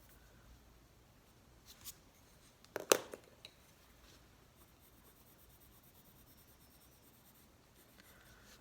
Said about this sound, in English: I just go back in some of those black lines and just blend any kind of areas that I think need it just a touch.